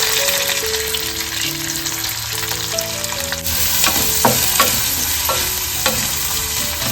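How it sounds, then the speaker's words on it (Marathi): Onion and garlic sauté in oil in a wok, a constant close sizzle broken by several sharp scraping stirs in the second half, with no voices. "इकडे मस्त कांदा लसूण परतवून घेतलेला आहे"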